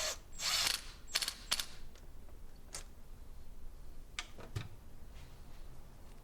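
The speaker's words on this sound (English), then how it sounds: "I'm going to tighten down the plug on the throttle body side of my charge pipes." A hand ratchet tightens a plug on the throttle-body side of a car's charge pipes, giving a few sharp, close mechanical clicks in short bursts separated by quieter pauses.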